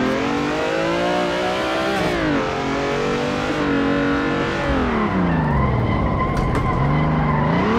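A car drifting in the video game Assetto Corsa on slippery street tires, a loud continuous engine drone rising and falling with revs, mixed with sustained tire skidding, close and dominant throughout.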